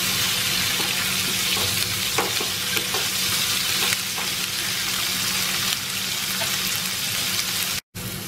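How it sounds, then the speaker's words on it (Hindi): Brinjal, tomato and spices frying and being stirred in a pan, a steady close sizzle running throughout with occasional stirring clatter. "इन सबका कलर चेंज हो जाएगा तब तक इसे फ्राई करूंगी मैं।"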